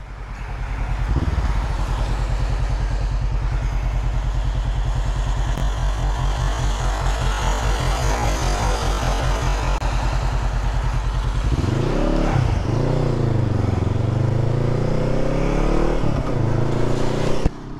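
A motorcycle engine with its exhaust baffle removed sits at a loud, steady, lumpy idle close by. Then it is revved hard several times in deep, rising and falling surges, with no talk.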